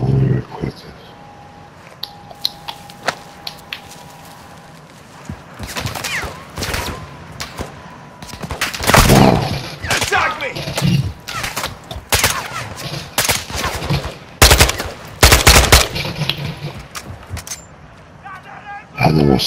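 Gunfire in Call of Duty Modern Warfare II breaks out in loud, sharp bursts and scattered single shots, growing heavier midway, while voices talk over the battle.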